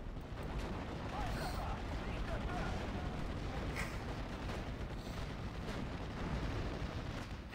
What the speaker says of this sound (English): Panzer 35 sees some armored rifles, starts opening fire on them.